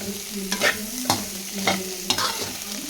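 Chicken egg fried rice being stirred in a pan, with a spatula scraping and clanking in a few distinct strokes over a low, steady sizzle of frying, close and fairly loud.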